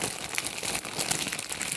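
A plastic bag with a zip seal crinkles and rustles close up as it is pressed shut over seedlings being started, a short burst of dense crackling with no talking.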